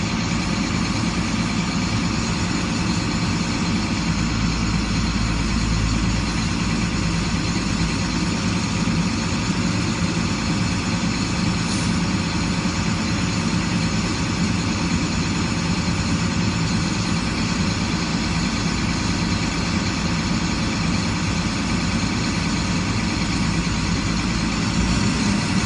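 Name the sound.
truck engine revving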